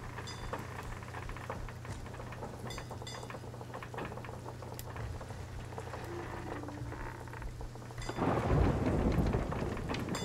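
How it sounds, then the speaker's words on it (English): Thunder rumbles over steady rain during a storm at sea in the pirate game Sea of Thieves, a constant wash of rainfall with a loud, close thunderclap swelling near the end. "We got struck by lightning again."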